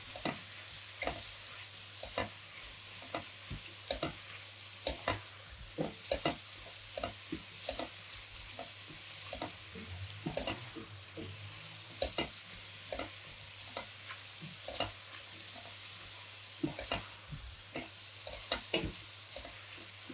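Mushrooms and onions fry in a pan while a utensil scrapes and stirs them in frequent, irregular clicks and scrapes over a soft continuous sizzle, heard close up for a long stretch with no voices.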